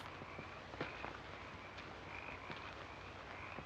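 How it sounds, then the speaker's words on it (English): A frog croaks on a repeating loop, rhythmic throaty calls recurring every second or so over a soft steady hiss of background noise. "Love this sound effect of a frog on loop."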